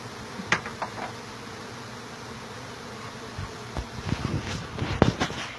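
Honey bees swarm around a hive in a house soffit, giving a steady, soft buzzing drone mixed with breezy noise and a few faint bumps, with no voices.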